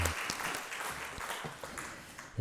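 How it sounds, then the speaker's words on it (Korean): A church congregation applauding the choir and praise team during a Sunday morning service, soft and somewhat distant clapping spread evenly throughout with a few sharper individual claps standing out. "우리 함께 격려의 박수 바라도록 하겠습니다"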